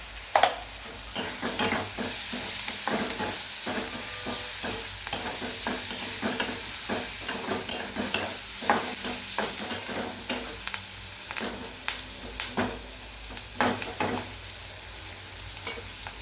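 Tomatoes with salt frying in oil for soybean bhurji, giving a steady close sizzle broken by frequent scraping stir strokes and small clinks throughout, with no talking.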